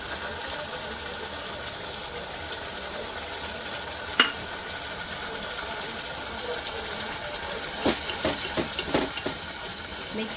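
Red spice paste added to golden-fried onions for spicy usal sizzles softly and steadily, with a clink near the middle and several stirring scrapes toward the end.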